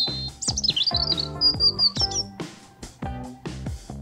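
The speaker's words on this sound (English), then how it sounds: "Robin." A robin sings a short run of high, warbling whistled notes, loud and close, over a light musical accompaniment that continues afterward.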